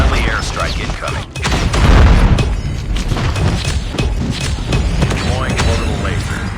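Airstrike explosions in Call of Duty Mobile, a dense barrage of loud booms and crackling blasts mixed with gunfire, rolling continuously and up close while game voice callouts come through.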